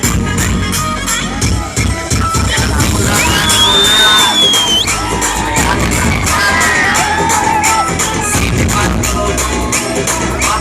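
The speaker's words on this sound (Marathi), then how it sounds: "जोरदार टाळ्यांनी स्वागत करूयात काजल अगरवाल यांचं." A large outdoor crowd at the 2015 Dahi Handi festival in Balewadi cheers and shouts loudly and continuously to welcome actress Kajal Agarwal, with whoops and scattered bangs over dense festival noise and music.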